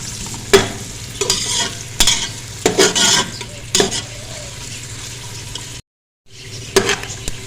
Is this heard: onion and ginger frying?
yes